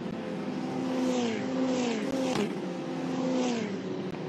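Formula Regional race cars racing down the back straight at a UAE circuit, loud high-pitched engines that repeatedly surge and drop in pitch as cars blast past one after another, with faint commentary underneath.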